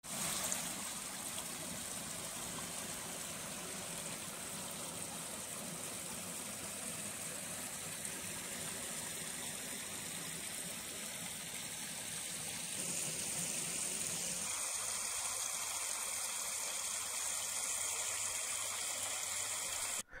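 Filtered water pours steadily through a sieve back into a spirulina farming pond, a continuous close rushing trickle that stays even throughout, with a faint low mechanical hum underneath and no talking.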